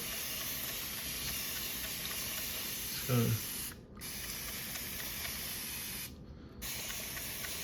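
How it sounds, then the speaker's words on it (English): Two short bursts from a small spray bottle misting a tarantula enclosure hiss out a few seconds apart over a faint background, with a brief low tone just before the first. "I just use this little spray bottle."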